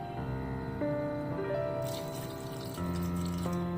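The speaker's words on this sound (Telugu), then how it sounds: "ఈ గ్రేప్స్ మునిగేంత వరకు నీళ్లు పోసుకోవాలి." Water poured into a pot over seedless grapes on a stove, a steady splashing stream whose pitch rises as the pot fills, close and moderately loud with no talking.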